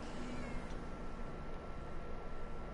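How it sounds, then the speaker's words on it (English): A cat in the point-and-click game Randal's Monday gives a drawn-out, strained caterwauling meow over a steady low background hum, and no one talks. "Man, that cat sounds just like Matt when he retches."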